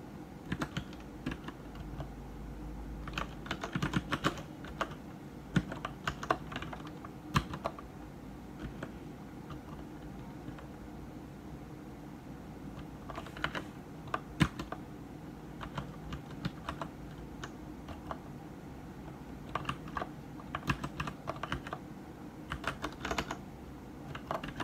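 Code is typed on a computer keyboard in steady, irregular bursts of soft, close clicks and taps, with no talking over them.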